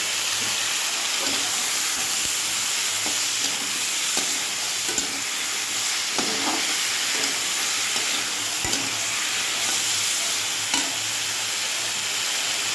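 Ginger-garlic paste frying in a pan, a steady close hiss and sizzle throughout with faint intermittent taps and scrapes of a spoon stirring.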